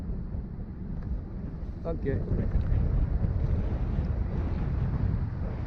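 Gusty outdoor wind buffets a GoPro Hero action camera's microphone near water, a steady low rumble that swells into a stronger gust, while someone speaks briefly over it.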